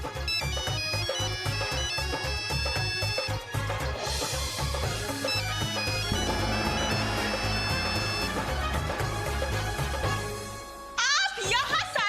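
A melodic electronic phone ringtone plays loud and continuous with a tinkling tune over a steady beat, cutting off near the end as a voice begins.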